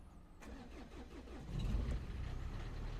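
Jaguar F-Pace 2.0d diesel from 2017 cranking on a jump lead and catching, a short starter churn giving way to a louder, steady close idle that holds to the end.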